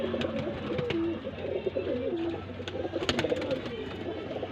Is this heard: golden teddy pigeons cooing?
yes